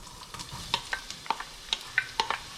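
Onions sizzle softly in heated olive oil for ribs and barbecue sauce while a utensil scrapes and taps the pan in a series of sharp clicks, close and quiet.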